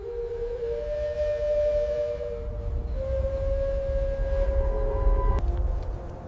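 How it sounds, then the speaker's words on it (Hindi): A long, mournful train whistle drones in the distance with steady sustained tones that shift pitch partway through, over a low rumbling background, ending with a faint click. "और उसको दूर से ट्रेन की सीटी सुनाई दिया"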